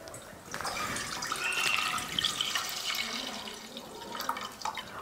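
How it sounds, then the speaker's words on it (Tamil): Milk poured into a pot to make payasam for a Diwali meal gives a steady trickling, splashing pour that lasts about five seconds, close and fairly loud, with no voices. "பாயசம் செய்கிறதுக்கு பால் ஊற்றிக்கலாம்"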